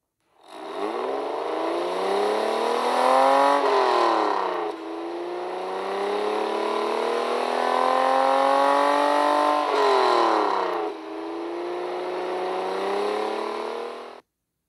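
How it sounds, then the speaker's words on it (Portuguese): A car engine runs continuously while moving, its pitch rising as it accelerates through gears, dropping at each shift, steady and fairly loud throughout. "Um som também pode ser longo, como o do motor de um automóvel em movimento."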